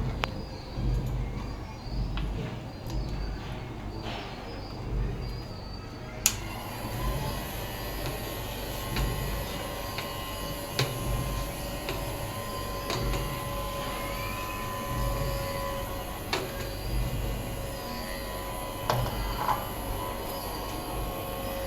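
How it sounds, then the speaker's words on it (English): A small homemade vacuum cleaner made from recycled plastic bottles, with a battery-powered motor, fan and filter, runs as a steady mechanical whir. It keeps going with only a few faint clicks and knocks, and no one talks. "This is how the vacuum cleaner works."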